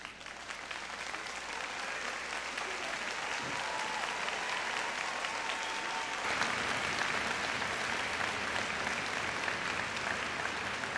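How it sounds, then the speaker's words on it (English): Sustained applause from a graduation commencement audience at Bay Path College, steady and full throughout, with no speech over it. "will the graduates please join me now in thanking these extraordinary individuals by standing and applauding for all of them."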